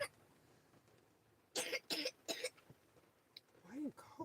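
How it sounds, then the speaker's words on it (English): Someone nearby coughs in a quick cluster of three or four harsh bursts, then gives a softer throat-clear. The room is otherwise quiet with faint background noise. "Why are you coughing so much?"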